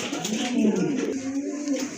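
Large Mundian pigeons coo in low, steady rolling tones, close by and continuous, with faint background murmur.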